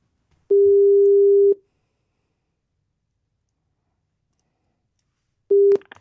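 A single steady electronic tone sounds for about a second, followed after a silence by a shorter repeat of the same tone, clear and close.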